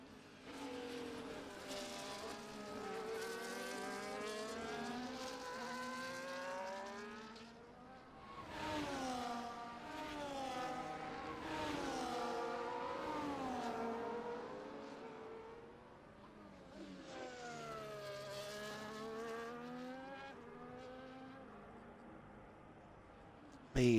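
Formula 1 cars circle the Bahrain Grand Prix track in an F1 esports video game race, their high-pitched engines whining continuously as revs climb and fall through gear changes, several cars overlapping at close to moderate range.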